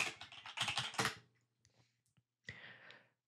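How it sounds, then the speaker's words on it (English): Fast typing on a computer keyboard, a burst of dense key clicks followed by a pause, a few isolated taps, then a second shorter burst, close and fairly quiet. "in the product search field, I'm going to be typing in SolidWorks"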